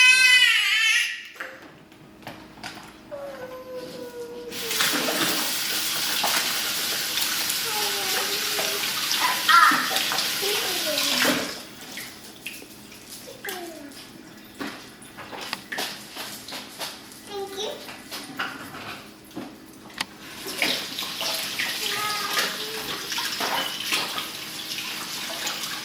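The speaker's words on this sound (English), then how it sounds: "we are going to wash our hands now" Tap water runs in a sink as hands are washed during baking, a broad hissing flow that starts and stops in several stretches, with a voice and other talk and clatter heard over and between it.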